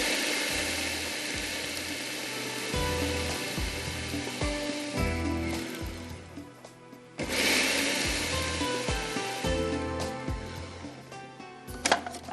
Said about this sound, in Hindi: अब हम इसको चॉपर को चलाएंगे